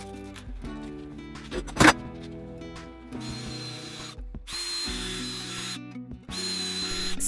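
Power drill boring through leather glued to wood, a steady close motor whine with pitch shifts as the bit bites and stops, briefly cutting out between passes.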